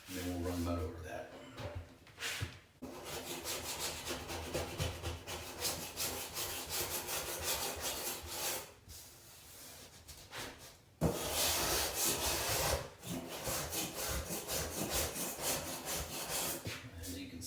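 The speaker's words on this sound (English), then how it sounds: "So I'm going to scrape this down just where it's high, and then we'll run mud over that." A metal blade scrapes dried drywall mud along a high seam in a pantry wall, producing steady rasping strokes close up, with brief pauses between passes and a voice talking over parts of it.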